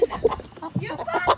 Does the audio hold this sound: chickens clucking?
yes